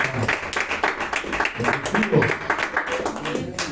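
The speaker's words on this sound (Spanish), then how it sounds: "Vamos a darle un fuerte aplauso al que vive." A church congregation at a Sunday service gives a burst of applause, dense clapping from many hands mixed with voices throughout the short stretch.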